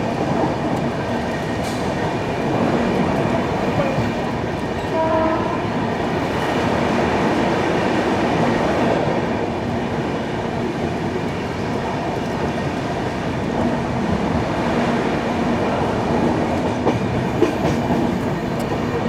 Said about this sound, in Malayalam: Sivaganga express super fast